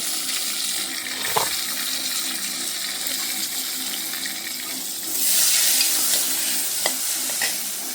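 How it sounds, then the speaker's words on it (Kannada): Masala ingredients frying in a pan for a Mangalorean-style green masala, giving a steady close sizzle with occasional stirring scrapes and clinks and a brief louder hiss burst midway, no voices. "ಒಳ್ಳೆಯದು ಗೋಲ್ಡನ್ ಆಗೋ ತನಕ ಒಳ್ಳೆ ಫ್ರೈ ಆಗಬೇಕು"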